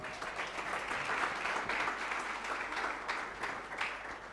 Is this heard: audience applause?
yes